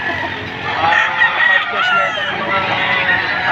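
Chickens at a poultry market in Padre Garcia, Batangas, cluck and squawk continuously nearby, with a crowing note mixed in, while people talk over the birds.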